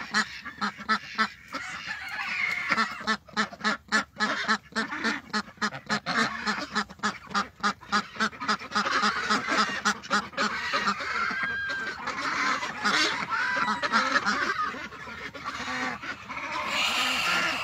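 A flock of ducks quacks and honks loudly in rapid bursts while being fed, with overlapping calls crowding close together for most of the stretch.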